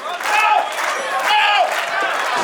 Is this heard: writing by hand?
no